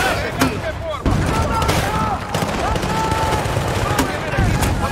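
Rapid, loud gunfire crackles through a Battlefield: Bad Company 2 firefight on Xbox One in a snowy mission, with sharp repeated shots and bursts over continuous background noise, while voices shout amid the shooting.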